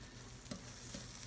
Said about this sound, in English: So now I'm just going to flip it over. As you say, you can hear it sizzling